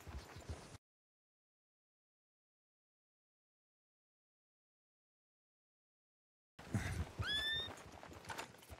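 Horses in the Red Dead Redemption video game whinny and snort, with a short burst of hoofbeats and shuffling at the start, then silence, then a louder close neigh with more movement sounds near the end.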